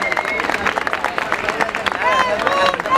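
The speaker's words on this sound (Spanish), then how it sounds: "Un aplaudiment per ells." Crowd at a street demonstration breaks into applause, steady clapping and cheering from many people nearby, with voices mixed into the noise.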